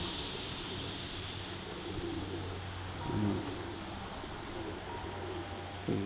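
Pigeons landing and cooing outdoors, low soft coos recurring a few times over a faint steady background, with a slight flutter midway.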